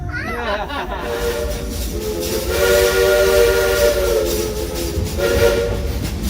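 A train rumbles steadily while a long steam whistle sounds in sustained harmonic blasts, swelling louder in the middle and sounding again near the end.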